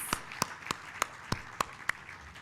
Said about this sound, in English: Doesn't she deserve another round of applause?